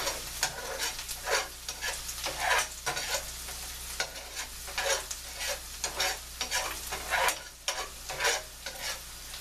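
Grits being stirred in a pan alongside sizzling, caramelizing onions, with repeated scraping strokes over a steady frying hiss, close and moderately loud, no talking.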